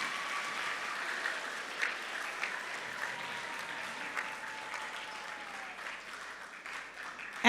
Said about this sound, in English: Can we please get a big round of applause for our incredible color guard?